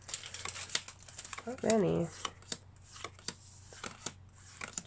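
A Pokémon card is slid into a plastic sleeve nearby, giving a short burst of crinkly, rustling plastic among scattered light handling clicks, with a voice speaking briefly.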